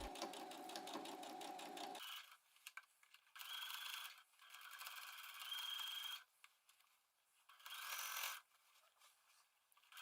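A sewing machine stitches a seam 1 cm from the edge all the way around a dress, running in steady mechanical bursts that start, pause and restart, loud and close with no talking.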